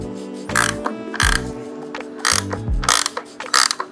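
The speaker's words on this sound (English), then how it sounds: "Now, we got to tighten this thing up. You're going to hold this nut with the wrench." A ratcheting wrench clicks in short repeated bursts while tightening a nut on a Megalodon 225 race minibike build, close and crisp with brief pauses between strokes.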